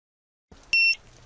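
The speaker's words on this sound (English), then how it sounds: "The beep sounds heard are from the officer's body camera to let them know it is still recording." A police officer's body-worn camera gives one short, bright electronic beep to signal that it is still recording, sharp and clear against quiet background noise.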